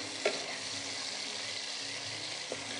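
Chicken strips fry in hot coconut oil with a faint, steady sizzle that crackles softly and holds even throughout, broken by a couple of brief louder pops.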